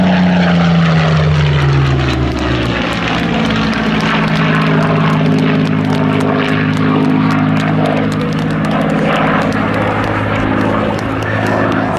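Supermarine Spitfire of the Royal Netherlands Air Force historic flight performs at an air show, its piston engine droning loud and steady with a slowly shifting pitch as it positions for a final manoeuvre.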